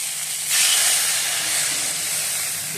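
Tomato, onion, cumin powder and ginger paste masala sizzling steadily in a hot pan, a loud continuous hiss that swells after the first half second and holds throughout with no talk.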